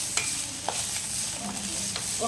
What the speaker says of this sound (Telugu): ఇవన్నీ వేసి బాగా వేయించుకుంటాడు